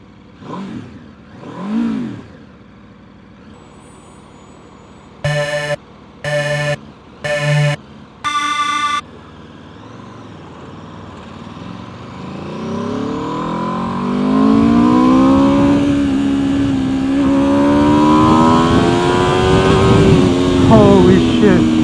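A 2024 Aprilia RSV4 Factory 1100 motorcycle revs hard in first gear, its engine climbing and falling in loud, rising sweeps after a few short electronic beeps and two earlier swooping tones.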